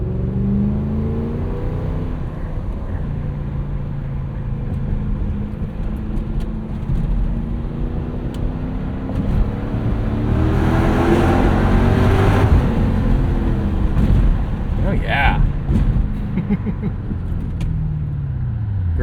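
A 1998 Lexus GS 400 V8 with a Megan catback exhaust pulls hard through the gears, its engine rumble swelling as it revs up and shifts, loud and close from inside the car.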